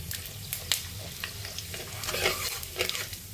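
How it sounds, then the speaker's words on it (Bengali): Cumin seeds and bay leaves tempering in hot oil for a vegetarian chhana dalna, giving a steady soft crackle and sizzle with a few sharper pops and a spoon stirring now and then. "জিরে ফোড়ন দিলাম।"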